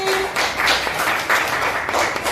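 A class applauds a student group after their presentation, a dense patter of many hands clapping at moderate distance, continuous for a couple of seconds.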